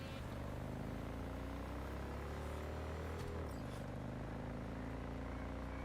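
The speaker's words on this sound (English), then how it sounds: "Sounds more like a car a little bit." Car engine groaning in Cyberpunk 2077, a dense continuous low drone with rising and falling harmonics and a sharp pitch drop near the middle, loud and close, no talk.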